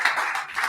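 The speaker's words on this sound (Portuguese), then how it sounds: "Dê um aplauso a Jesus." Brief burst of clapping and applause from a church congregation, steady and fairly loud throughout with no voices over it.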